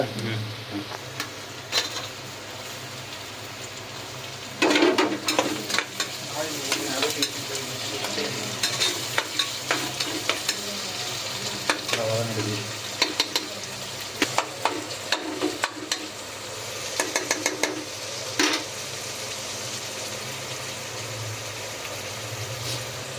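Tomatoes and masala sautéing in a pan for mutton kulambu, stirred steadily: a continuous low sizzle with frequent scraping clicks over a constant background hum.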